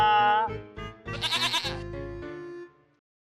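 A goat bleats loudly and close by in several wavering calls, rising into a strained, quavering cry in the middle before trailing off, with no other sound around it.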